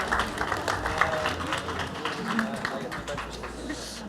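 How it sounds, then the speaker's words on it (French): Applause for a speaker at a panel talk on electronic music, a moderate ragged clapping from a small audience with voices murmuring underneath. "on peut l'applaudir"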